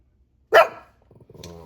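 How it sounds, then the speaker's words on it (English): A dog gives one loud, close bark, then a short low growling grumble, with quiet before it. "No barking."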